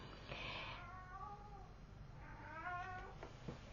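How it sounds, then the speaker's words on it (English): A house cat meows twice, a drawn-out, wavering cry followed after a pause by a second similar call, faint and somewhat distant in a quiet room, with no voices. "If you can hear him meowing in the background, probably calling his brother to play."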